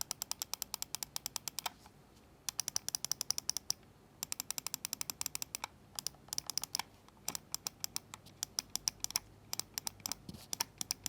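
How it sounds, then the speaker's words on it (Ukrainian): Buttons of an MSI Clutch GM31 wireless mouse click in quick, sharp bursts of many presses, separated by short pauses, crisp and close in a quiet room. "Клік короткий і чіткий, але є претревел."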